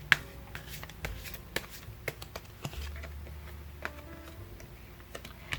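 Tarot cards being drawn and laid down for a reading produce soft, scattered clicks and shuffling flicks, quiet and close, with a faint low hum underneath.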